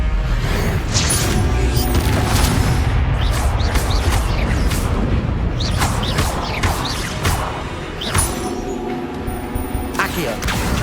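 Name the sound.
Incendio fire spell cast in video game Hogwarts Legacy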